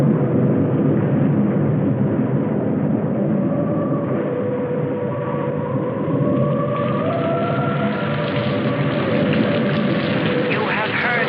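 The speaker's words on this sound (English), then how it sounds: "it seemed heavier than any rain we'd ever seen" Heavy rain pours steadily in a film scene, a dense, continuous hiss that stays loud and unbroken from start to finish, with some faint tonal rumbling mixed beneath it.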